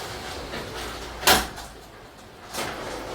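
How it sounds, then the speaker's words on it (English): A residential garage door sticks while closing, giving a sharp clunk followed later by a softer rattling jolt over a quiet room tone, with no talk. "the garage door is getting stuck, so I'm gonna have to come back in, see if I can get that down"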